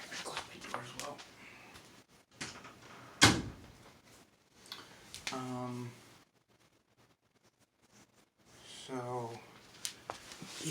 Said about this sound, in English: I gotta close my door as well.